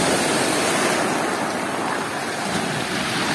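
Sea waves wash onto the shore of Blue Bay, a steady loud broadband roar of surf and rushing water, close by and continuous, with no speech.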